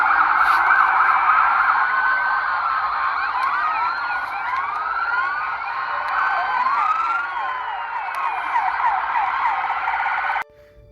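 Many police car sirens wail together at the Bayside mall in Miami, overlapping rising and falling tones forming a dense, loud, continuous chorus that cuts off sharply near the end.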